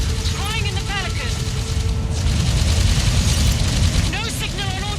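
A reactor explosion in the video game Halo 5 roars as a loud, sustained rumbling blast that fills the scene, with voices speaking over it.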